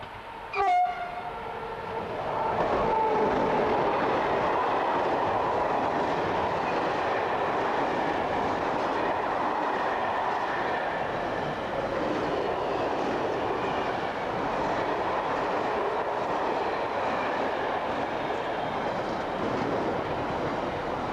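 A French BB26000 electric locomotive hauling a container train rumbles past steadily for about twenty seconds, a broad continuous roar of wagons with a brief horn-like tone near the start.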